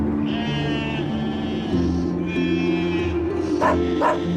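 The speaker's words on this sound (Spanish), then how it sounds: "Miren este carnero, parece un rey." A flock of sheep with a ram bleats steadily, several overlapping calls layered over a dense, noisy outdoor background, with two sharper bleats standing out near the end.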